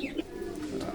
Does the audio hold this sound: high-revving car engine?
no